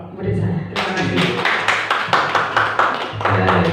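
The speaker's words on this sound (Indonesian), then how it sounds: "Tepuk tangan buat Bu Eni sekali lagi" Applause from a group of aspiring school principals for Bu Eni after her module presentation: dense, steady clapping that starts abruptly and carries on to the end, with voices faintly underneath.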